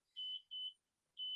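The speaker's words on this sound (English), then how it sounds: "Somebody's alarm were going off there." Somebody's alarm going off indoors: three sharp, high electronic beeps, the first two close together and the third after a short pause, loud and clear with no talk over them.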